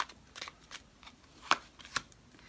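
Tarot cards are shuffled and handled up close, a series of quick papery riffles and flicks with two sharper snaps near the end, fairly quiet with no talk.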